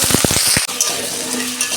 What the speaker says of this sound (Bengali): আলুটা আমি 2 মিনিট ভেজে নেব।